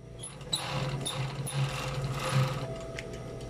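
Sewing machine stitching up badly torn, hole-riddled shorts, a steady mechanical hum with a faint ticking run throughout at low level, no talk.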